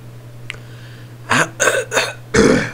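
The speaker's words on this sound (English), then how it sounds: "I'm very sorry for the entire coughing every now and again." A person coughs four times in quick, harsh bursts close to the microphone, over a steady low electrical hum, after a soft click.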